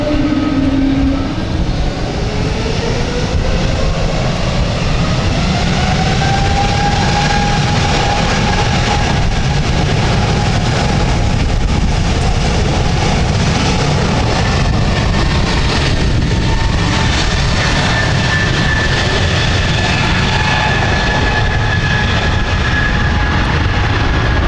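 A jet airliner departing London City Airport on the final Saturday flight, a loud sustained engine roar building into the takeoff run with a rising whine and turbine tones drifting upward, continuous throughout.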